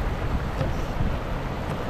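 Strong wind roars outdoors at an old dam in Taiwan, a dense, steady buffeting that fills the clip and batters the microphone, with no voices.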